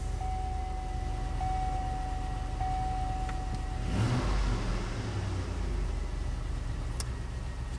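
A 2005 Chevrolet Tahoe engine idles steadily after starting following a crank-no-start fault, with a brief rev midway and a constant low rumble close by.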